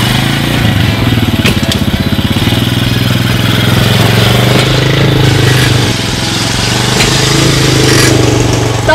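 An ATV engine runs at a steady throttle while being ridden outdoors, a loud continuous low rumble with a close, buzzy texture and no speech over it.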